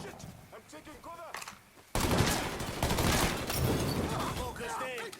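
Dense bursts of gunfire and automatic fusillades in the Mafia 3 video game, loud and continuous after an abrupt start, mixed with shouted voices throughout.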